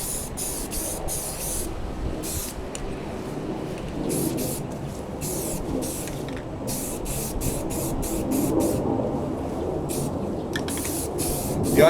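Aerosol primer sprayed onto Yamaha FZ600 motorcycle parts, heard as steady hissing bursts interrupted by short regular pauses, close and moderately loud over a faint room background.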